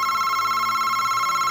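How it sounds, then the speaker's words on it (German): A telephone rings with a steady, continuous electronic trill, loud and close, heard alone without talk. "Oh, Moment, mein Telefon klingelt."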